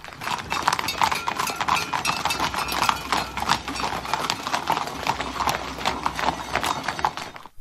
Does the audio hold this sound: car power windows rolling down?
no